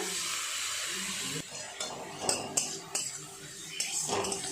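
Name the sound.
stirring ginger garlic paste with onion in a pan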